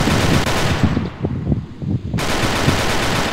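Rapid, loud shotgun fire in the Begone video game, with dense repeated blasts rattling throughout and a brief lull in the middle before the shooting resumes.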